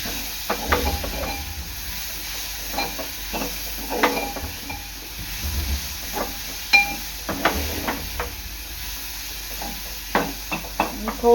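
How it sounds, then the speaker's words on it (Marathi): Tomato and cabbage stir-fried in masala for Maggi, a low hiss of frying under irregular clinks and scrapes of a spatula against the pan, close and moderately loud. "आता ह्यामध्ये टाकणार आहे मी टोमॅटो आणि कोबी। हे सुद्धा चांगलं परतून घ्यायचं आहे मसाल्यात।"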